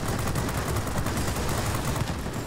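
Rapid sustained gunfire from a J-21RB's single 20mm cannon and several .50 cal machine guns in World of Warplanes, a dense continuous rattle of overlapping shots that stays loud and steady throughout with no talking.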